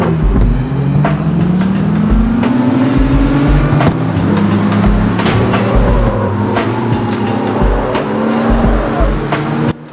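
A race car engine in an Android racing video game, loud and close, roaring steadily and rising in pitch through the gears with brief tire squeals, then cutting off abruptly at the end.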